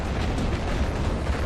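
A tank blows up in Red Alert 2: Yuri's Revenge, a dense rumbling blast with crackling debris that fills the whole brief moment at steady loudness, with no voices.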